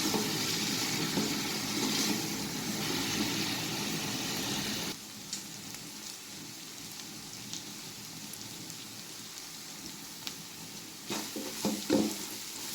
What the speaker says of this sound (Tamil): இப்போ வெங்காயத்துடையும் கொழுப்பு நல்லா ஃப்ரை ஆகிடும்.